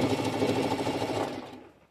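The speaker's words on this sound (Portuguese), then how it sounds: "Vamos ver se ela vai costurar." A domestic sewing machine stitching a piece of fabric, a fast rattling run of needle strokes close by that slows and fades out at the end.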